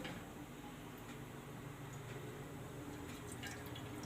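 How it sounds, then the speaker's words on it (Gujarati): A little oil trickles into a pot holding two bowls of water for a semolina (rava) snack, giving a faint, steady dripping and liquid patter against a quiet background hiss. "અને થોડુંક આપણે એમાં તેલ નાખીશું."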